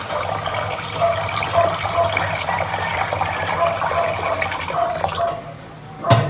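Tap water runs steadily from a faucet onto raw rice in a pot, a continuous close splashing pour lasting several seconds before a brief clunk at the end.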